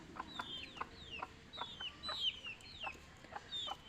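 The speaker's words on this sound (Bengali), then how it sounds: "আমার আশেপাশে বিভিন্ন ধরনের শব্দ আসতেছে, মুরগির শব্দ, বিভিন্ন শব্দ আসতেছে" Chickens cluck and call around a home in rural Bangladesh, several short rising calls repeating every half second or so at moderate distance over a low ambient hum.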